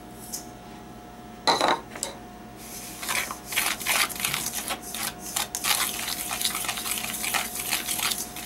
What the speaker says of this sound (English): we're going to go ahead and mix all this up